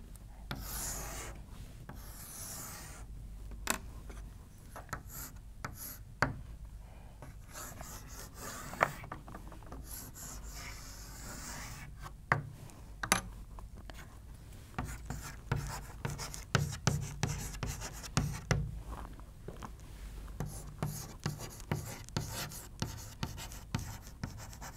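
Pen drawing a pancreas diagram, with quiet scratching and rubbing strokes and occasional sharp taps that grow more frequent toward the end, faint and close.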